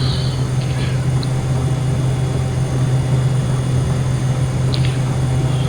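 Steady, loud drone of a Kodiak propeller plane climbing after takeoff in the FSX flight simulator, a constant low engine hum with no talk over it.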